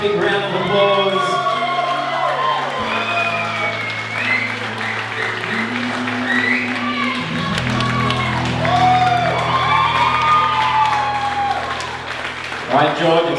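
Wedding guests applaud the couple, with sustained clapping and a few cheers and whoops running under music and loud background chatter. A voice speaks over the crowd.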